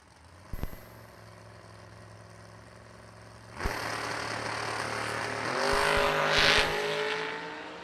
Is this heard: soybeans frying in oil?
no